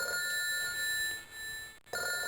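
Telephone ringing inside a house in the Silent Hill play novel game, a steady electronic ring with bright sustained tones over a faint background, the ringing pausing briefly near the end.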